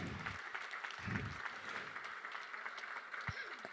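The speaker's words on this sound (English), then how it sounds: "give a round of applause for Carol Ann" Audience at a presentation applauding a volunteer, a soft, steady patter of clapping throughout with a couple of low vocal bursts underneath.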